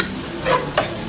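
Onions sauté in a pan for an avarakkai chicken dish. A soft background sizzle is broken by three quick, close spatula scrapes in about a second.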